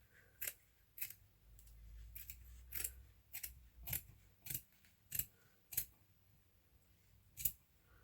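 Scissors snipping through cereal box card and scraps of burlap and fabric: about a dozen sharp, crisp cuts spaced roughly half a second apart, close but quiet, with no talking.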